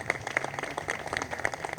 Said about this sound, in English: Round of applause to these students.